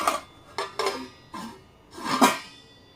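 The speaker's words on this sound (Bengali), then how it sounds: "তো এই কড়ার ঢাকনা এটা তো কেমনভাবে দেখাবো বুঝতে পারছি না" A metal kadai lid clanks and scrapes in a few separate bursts as it is picked up and turned over, close and fairly loud, with no one speaking.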